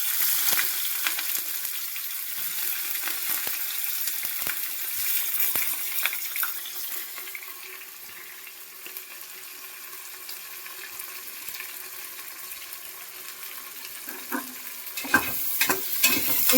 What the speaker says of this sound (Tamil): நம்ம ஸ்லைஸ் பண்ணி வச்சிருக்க இந்த வெங்காயத்தை இதில் நம்ம ஆட் பண்ணிக்கிறோம்